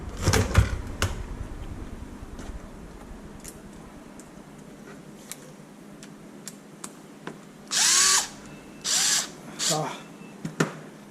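A power drill removes screws from a Traxxas Maxx 4S RC truck, whirring in several short bursts, loud and close, between clicks and small handling noises and a low background hum.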